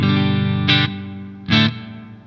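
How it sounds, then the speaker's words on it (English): Electric guitar through a spring reverb in a Two Notes Torpedo CAB M plays a sustained chord, with two brighter strummed accents that ring out and decay into a lingering reverb tail. "This was a spring reverb, which is really nice."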